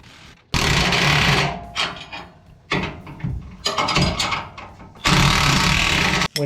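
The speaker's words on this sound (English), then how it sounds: "So now what I'm going to do is torque my U-bolts down." Ratchet wrench tightening U-bolts on a Ford F150 during a lowering install, several bursts of rapid metallic clicking close up, separated by short pauses.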